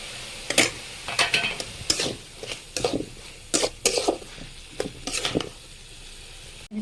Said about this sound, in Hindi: एबे चलतु से आम बेसर पकाइना